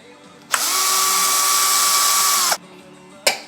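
A power driver removes the intake horn screws on a Husqvarna 395 XP chainsaw, one loud, close two-second whir with a steady pitch that stops abruptly, followed by a brief click.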